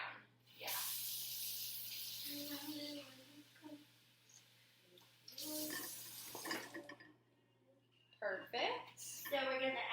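Water gushes from a kitchen tap into a cup in bursts, a hissing splashing stream that stops and starts, with people talking between and over the pours.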